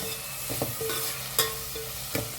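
Chopped tomatoes frying with onions in a pan for a Goan-style chicken xacuti, a steady close sizzle broken by a few soft spoon scrapes and clinks.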